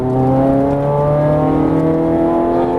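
A Ferrari 430 Scuderia engine roars steadily and loudly, its pitch slowly climbing as it accelerates hard on a racetrack in Las Vegas, heard up close from inside the car.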